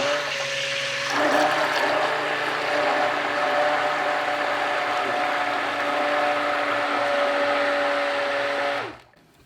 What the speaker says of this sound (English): Immersion blender is going to go in, and we're gonna start it and then carefully pour the lye solution in.